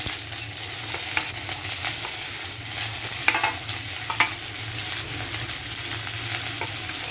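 Chopped green chili and onion fry in a pan with a steady, close sizzle, broken by a few scraping stir strokes.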